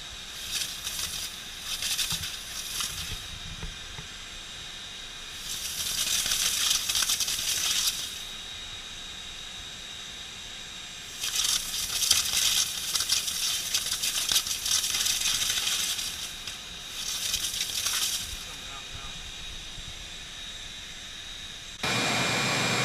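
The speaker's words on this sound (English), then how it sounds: "You saw the air compression tool blowing all the dust around." An air compression tool blasts loud hissing bursts of air inside an air duct, blowing dust around, several bursts of a few seconds each with quieter gaps in between, close by.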